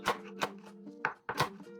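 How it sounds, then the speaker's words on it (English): A knife chops a red jalapeno on a cutting board for pickle brine, four crisp close knocks in an uneven rhythm with short pauses, alone and fairly quiet. "chopping one of my red jalapenos"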